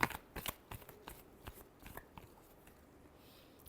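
Soft, quick riffling and tapping of tarot cards being shuffled, a run of brief papery snaps close by and fairly quiet, tapering off toward the end.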